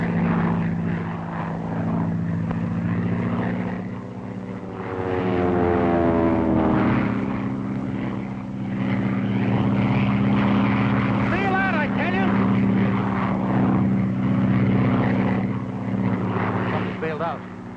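A propeller airplane engine roars loud and continuous in a dive in a 1941 film, with pitch rising and wavering throughout, and voices speak over it.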